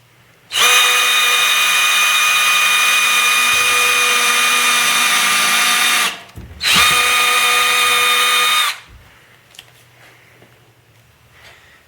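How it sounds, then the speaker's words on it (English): A power drill whines loudly and steadily for several seconds, stops briefly, then runs again before falling quiet, driving screws into countersunk holes in wood while building a road case. "we're doing the same process of drilling our countersink hole,"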